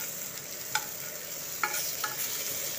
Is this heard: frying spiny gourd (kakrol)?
yes